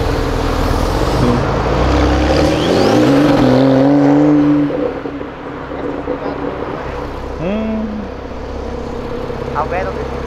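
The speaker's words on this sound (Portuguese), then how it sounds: "Nossa, mas essa Porsche é maravilhosa," A Porsche sports car passes close by with a rising engine note that swells and fades, while people chat nearby and traffic continues faintly behind.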